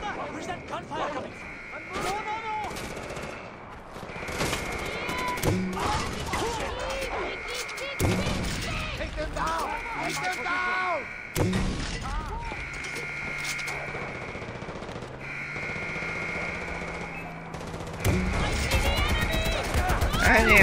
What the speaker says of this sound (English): Gunfire coming!